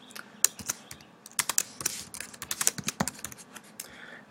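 Typing text on a computer keyboard, with irregular, crisp key clicks in quick clusters, fairly close and alone without speech.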